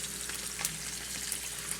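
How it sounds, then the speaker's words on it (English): Steak fries in a pan with a steady, dense sizzle, and sharp spits and pops crackle over it at several points. "Now she's frying."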